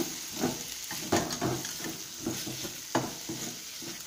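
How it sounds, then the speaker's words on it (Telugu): Dry coconut powder being stirred into a sizzling pan of cluster bean and moong dal fry, with steady frying hiss and repeated soft scrapes and knocks of the spoon against the pan, close and alone. "నెక్స్ట్ ఎండు కొబ్బరి పొడి వేసుకొని బాగా కలుపుకుందాం"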